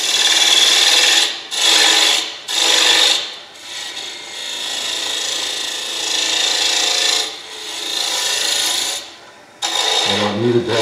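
A hand tool rasps steadily against wood while a taper is shaped on a cocktail smoker, loud and close in long scraping strokes broken by short pauses.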